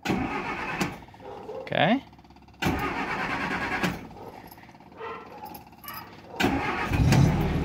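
A classic Mini's engine cranks with the starter and fires up without the choke, then settles into an idle; someone speaks briefly over the close engine noise.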